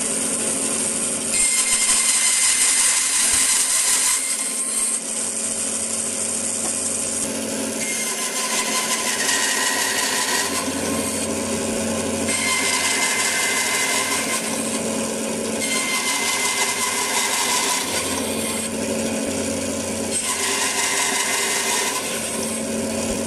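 A power saw runs steadily through wooden formwork planks for building raised vegetable beds, a loud continuous buzzing whine that swells and eases in repeated passes as each plank is cut, with no talking.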